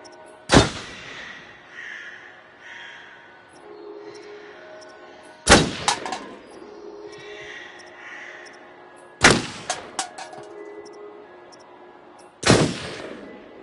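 Four sharp, loud gunshots at a shooting range in the video game Until Dawn, spaced a few seconds apart, each with a short ringing tail, over a quiet ambient background.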